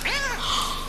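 A kitten gives one short, high, wavering meow, close and clear, lasting under a second, with no talking over it.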